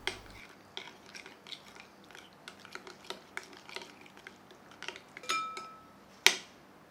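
A spoon stirring tikka masala powder and oil into a marinade, giving soft scraping clicks in an uneven rhythm, close and quiet, ending with a sharper clink.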